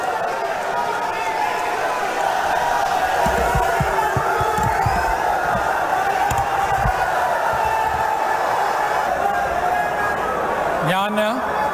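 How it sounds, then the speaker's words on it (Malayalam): A large crowd at a stadium swearing-in ceremony, a broad murmuring roar with scattered cheers and shouts, voices mixed in throughout, ending with a brief whistle-like sweep. "സ്റ്റേഡിയത്തിനകത്തും പുറത്തും വൻ ജനക്കൂട്ടമാണ് ചടങ്ങിന് സാക്ഷ്യം വഹിക്കാനെത്തിയത്"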